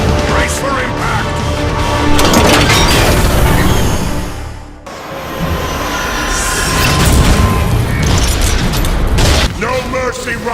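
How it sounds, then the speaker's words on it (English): Loud explosions and heavy weapons fire in a Transformers: Cybertron cinematic battle. Rumbling booms and metallic crashes come under shouted dialogue, briefly dropping to near silence midway before the roar resumes. "We're taking heavy fire! Brace for impact!"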